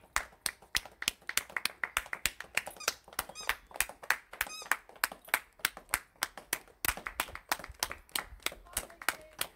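Brief high-pitched dog squeaks appear a few times among a steady run of rapid claps and snapping taps nearby.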